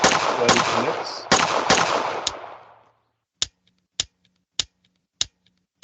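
Gunfire in a Unity first-person shooter game: several quick, sharp shots ring out over about three seconds, then the magazine runs empty and the weapon gives a few isolated dry clicks at regular intervals.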